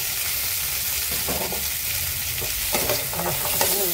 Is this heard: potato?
yes